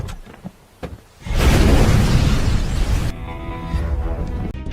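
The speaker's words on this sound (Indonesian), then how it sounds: "Saat asap tebal dan ledakan hebat membumbung tinggi di cakrawala, Tommy tertawa lepas" A bomb blast in an action film sets off a sudden, loud, sustained roar of rumbling noise after a quieter stretch, then drops into a lower, steady din near the end.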